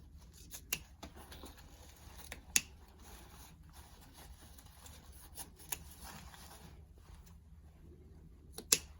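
Scissors snip ribbon tails on a wreath bow, with a handful of short, crisp cuts spaced irregularly over soft handling noise, quiet and close.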